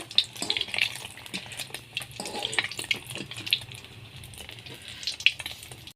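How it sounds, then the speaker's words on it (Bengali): Snacks deep-frying in hot oil for a children's evening treat, a soft, steady crackle and bubbling close by with scattered small pops, fairly quiet throughout. "এটাকে এইভাবে আমি লাল লাল করে ভেজে নেবো"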